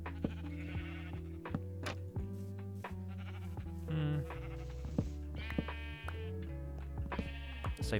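Sheep bleats in Minecraft, several wavering calls spread across the stretch, heard over steady looping background music.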